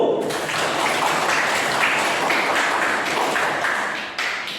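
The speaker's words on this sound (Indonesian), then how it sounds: "coba anak-anak kasih semangat dulu, tepuk tangan dulu." Students in a classroom clap their hands together in a steady, fairly even burst of applause that lasts several seconds and fades slightly at the end. No one speaks over it.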